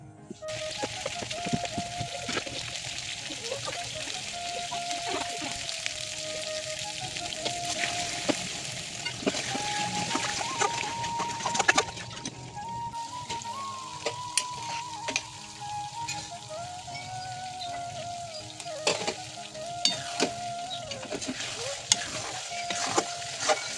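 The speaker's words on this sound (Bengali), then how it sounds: "তো এখানে আমার মশলা কষানো হচ্ছে।" Cumin, ginger, garlic, onion and dried red chilli sauté for a meat curry, a soft continuous sizzle broken by repeated sharp scrapes and clicks of a spatula stirring against the pan.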